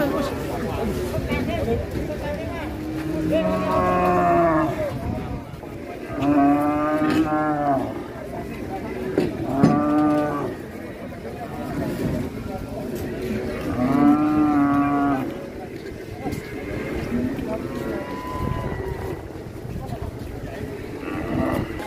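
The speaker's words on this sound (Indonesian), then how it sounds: "Belum capek juga ini sapinya." Loose cattle at a busy market moo loudly and repeatedly, long drawn-out calls every few seconds, while people chatter and shout in the background.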